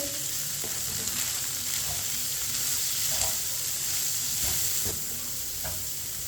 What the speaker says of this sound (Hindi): पत्ता गोभी और शिमला मिर्च को मैंने मिक्स कर लिया है।